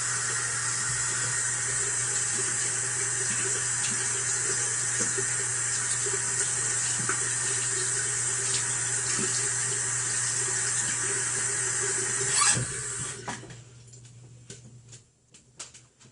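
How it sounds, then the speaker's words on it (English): Steady running tap water pours and splashes over a makeup brush being rinsed for a long stretch, then cuts off abruptly near the end, leaving a few drips. "So now the only thing I do is rinse my brush."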